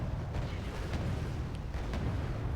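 In the Wargame Red Dragon strategy game, a Harpoon missile strikes a ship, giving a dull, rumbling blast that rolls through a noisy battle backdrop with a few smaller bursts, moderately loud but somewhat muffled.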